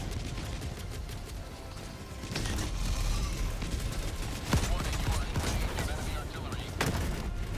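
Gunshots in Helldivers 2, a steady clatter of firing with several sharper, louder cracks standing out over ongoing combat noise and mechanical sounds, a voice speaking over it.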